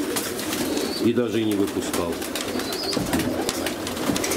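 Pigeons cooing in a dirty aviary just after being fed and watered, soft throaty coos repeating over a busy background of rustling and movement, with someone talking nearby.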